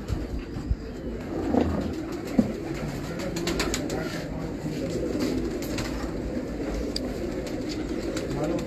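Pigeons coo repeatedly from a loft of bred racing birds in Karachi, soft throaty calls overlapping at close range, with occasional voices and faint background noise.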